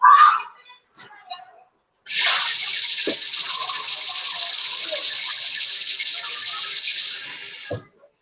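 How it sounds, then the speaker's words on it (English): Tap water runs into a pot in a home kitchen, a steady bright hissing stream lasting several seconds before cutting off, with brief clatter and handling sounds beforehand. "I'm gonna put some water in here."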